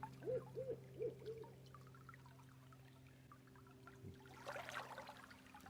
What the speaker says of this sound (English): Just heard an owl out here.